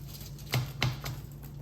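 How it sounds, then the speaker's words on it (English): A sharp knife cuts through a vegetable on a cutting board during home cooking, giving two distinct crisp chops about a quarter second apart, close and moderately loud over faint room hum. "And I am going to chop it in half."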